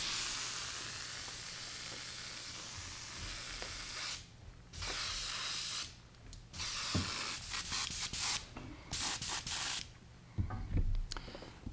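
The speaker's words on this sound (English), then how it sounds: "I'll give the airbrush a quick rinse." An airbrush is flushed clean during fly-tying painting work, with a long steady hiss of spraying followed by several shorter bursts, clicks and handling noises, all quiet and close.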